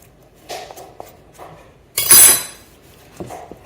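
A knife scrapes sticky sourdough, wet flour and water, off the inside of a bowl, with a few soft scuffs and taps followed by one louder, brighter scrape near the middle, close and with no talk.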